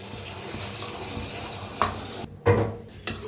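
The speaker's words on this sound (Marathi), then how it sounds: "थोडंसं 1 तांब्यावर पाणी ओतलंय मी, म्हणजे वाटाणा आणि बटाटो शिजायसाठी" Water added to a pan of peas and potatoes, heard as a steady sizzling wash followed by a few sharp splashing bursts and spoon knocks close by.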